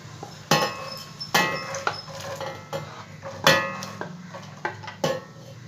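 Cooled roasted gram clatters into a steel mixer jar in several sharp, separate bursts, close and moderately loud, with rattling hard grains over a quiet kitchen background.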